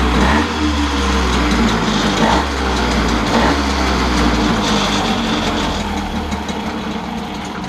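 A blue Magnum moped engine idles steadily after starting, a loud, continuous low putter with a slightly uneven knocking rhythm that holds close and constant throughout, no voices over it.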